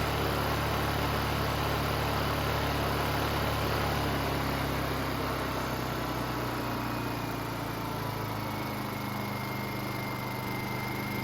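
A Honda EU2000i portable inverter generator runs steadily after a carburetor repair, its engine droning evenly and close by at a constant idle for the whole stretch, with no voices.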